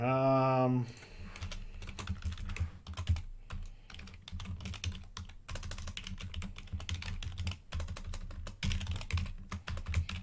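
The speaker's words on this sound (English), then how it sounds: "I cannot type. I'm typing too quick." Rapid, irregular clicking of keys on a computer keyboard, close by, after a brief tonal sound at the start.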